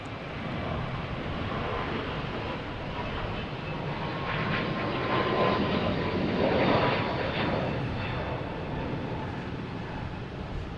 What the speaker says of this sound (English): we have a Delta taking off, a A321 Neo heading to Salt Lake City